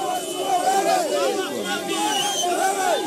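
Crowd babble and overlapping chatter surround a reporter in Kisumu during reactions to the annulled Kenyan presidential election, a dense, steady hubbub of many voices close by throughout.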